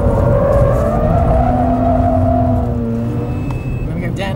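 A Mazda RX-8 R3's rotary engine on a race track, heard from inside the car as it revs high and then eases off, a loud, smooth whine under a voice.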